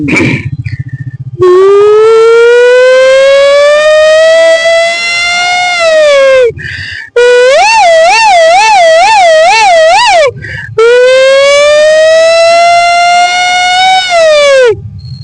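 A voice imitates an ambulance siren, loud and close, holding long rising and falling wails and then a fast warbling yelp before returning to the long wail.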